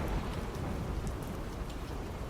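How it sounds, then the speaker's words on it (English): Heavy rain pours down during a thunderstorm over an Australian outback cattle station, a dense, constant roar with deep rumbling thunder underneath and no voices. "Underneath was an almost constant barrage of fork lightning, setting off cracks of thunder even louder than the previous storm."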